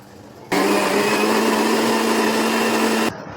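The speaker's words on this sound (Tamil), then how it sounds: "நான் மிச்சம் இருக்க பாலையும் ஊற்றி அரைச்சிட்டேன்" A blender whirs on abruptly, grinding chikoo (sapota) with milk for ice cream in a loud, steady high-pitched drone, then cuts off after about two and a half seconds, leaving a quiet room.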